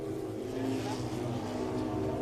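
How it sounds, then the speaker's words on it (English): Race cars at a Mid-Ohio SpeedTour race pass on the track, producing a steady, fairly distant engine drone behind a voice talking. "we got cars passing us"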